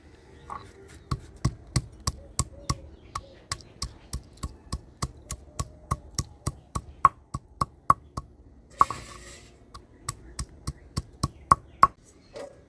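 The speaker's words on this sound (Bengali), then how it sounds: "মাছের ঝুলের জন্য আমি জিরা আদা আর কাঁচা লঙ্কা বাইটি নিই" Cumin, ginger and green chillies being ground into paste for a fish curry, heard as steady, sharp knocks about three per second that sound close and crisp against a quiet background.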